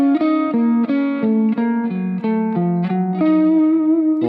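An electric guitar with effects and distortion plays a minor pentatonic figure with moving major thirds, a run of sustained single notes stepping down and then back up, loud and close with no talking.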